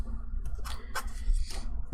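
Scissors snipping through sticker paper at close range during planner decorating, a few crisp cutting strokes in quick succession.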